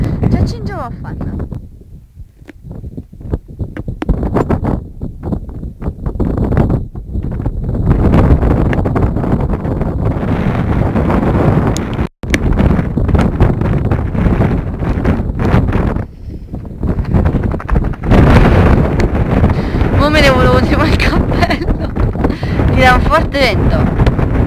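Strong, steady wind on Monte Petroso in Abruzzo National Park, in thick fog, buffets the microphone with a deep, continuous rumble and roar, broken only by a brief dropout midway.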